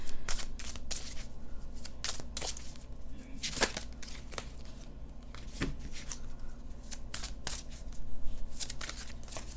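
Tarot cards are shuffled by hand in a series of crisp riffling and snapping bursts, close up and moderately quiet, with faint background noise.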